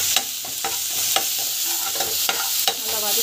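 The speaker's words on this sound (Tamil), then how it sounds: "இஞ்சி போட்டு பேஸ்ட்டு நல்லா வதக்கி வந்து வதக்கிக்கணும்" Onion and ginger paste sautéing in hot oil with mustard seeds and cumin, a steady close sizzle broken by several sharp scrapes and stirs of the spoon against the pan.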